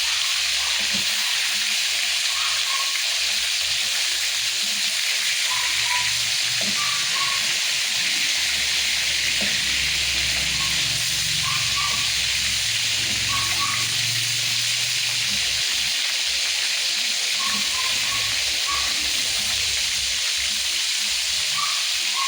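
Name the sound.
food frying in a pan until brown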